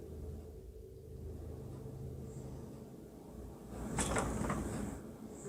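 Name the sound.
knocking in ghost investigation video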